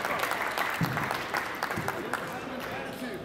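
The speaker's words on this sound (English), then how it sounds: "Please, a round of applause for Ms." An audience at a concert in a Newark restaurant applauds for a performer, steady dense clapping throughout while someone speaks over it.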